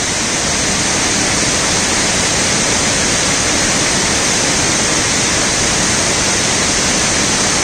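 A waterfall in Konkan roars in a dense, unbroken wash of rushing water, loud and close, with no voices.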